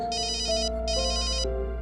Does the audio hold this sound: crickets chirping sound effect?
no